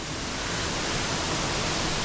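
A waterfall pouring steadily, a dense, loud, unbroken broadband rush that stays even from start to end, with no voices.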